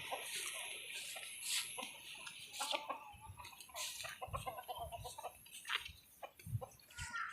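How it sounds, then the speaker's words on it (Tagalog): Chickens cluck and chatter close by in quick, irregular bursts, with faint background noise throughout. "Mga manok ko, oh, nakaligaw lang."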